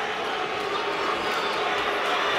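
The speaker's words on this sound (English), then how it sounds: "And you can hear the reaction from the crowd." Boxing arena crowd at a Danny Garcia vs Lamont Peterson fight, a steady, dense roar and murmur of many spectators filling the hall, loud and continuous with no single voice standing out.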